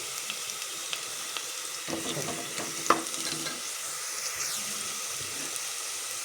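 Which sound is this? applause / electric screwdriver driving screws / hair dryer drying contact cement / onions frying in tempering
onions frying in tempering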